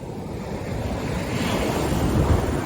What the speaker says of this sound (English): It's a good surfing waves here.